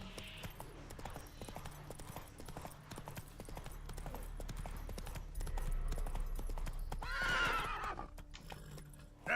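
Roach the horse in The Witcher 3 trots with steady, rhythmic hoofbeats that continue across the clip, and a whinny rises near the end, with game music running beneath.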